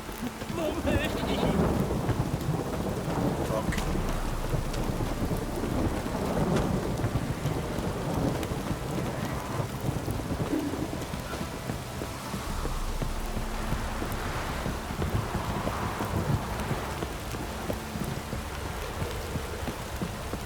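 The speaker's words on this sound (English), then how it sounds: "This downpour's a bastard" Heavy rain downpour with rolling thunder in The Witcher 3, a dense, steady roar of rain on surfaces with low rumbles swelling and fading across the stretch, no voices.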